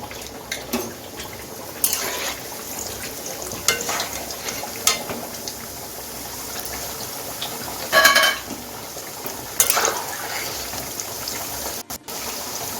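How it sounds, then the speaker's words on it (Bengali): Potato chips deep frying in hot oil on a home stove, a soft steady bubbling broken by occasional louder stirring scrapes and splashes. "দেখুন আমার তেল গরম হয়ে গেছে এখন আমি চিপসগুলো ভেজে নিচ্ছি"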